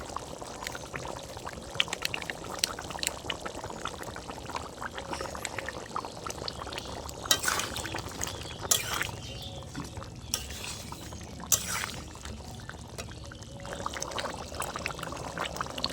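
Water pouring steadily into a pan of mung dal on the stove, a continuous trickling stream with a few brief louder splashes midway, close and moderately loud with no talk.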